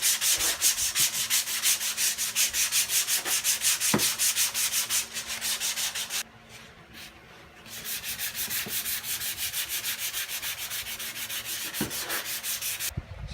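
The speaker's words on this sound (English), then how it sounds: "we're going to try to block it with 80 and see what we're working with" Sanding block worked over a primed, badly damaged car body panel with 80-grit paper, producing a continuous rhythmic scratchy rasp of rapid back-and-forth strokes, close and loud, with a brief pause midway and no talking.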